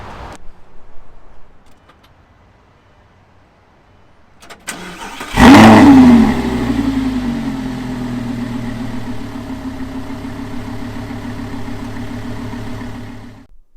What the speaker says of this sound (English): I will give you an exiting turn on of the new engine serviced with the spark plugs